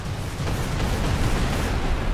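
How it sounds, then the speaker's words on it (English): A rumbling, continuous roar of explosions in the video game James Cameron's Avatar: The Game, deep and booming, filling the whole moment without pause or voices. "Take it easy with the explosions there."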